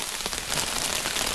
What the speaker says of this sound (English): We're hiding from the rain under Kay's tarp.